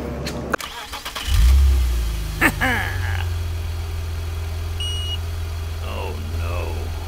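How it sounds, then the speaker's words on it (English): A Kia Telluride's engine cranks and starts, then settles into a steady low idle, close by, with a couple of chime beeps and someone talking over the running engine. "I got the vehicle running here."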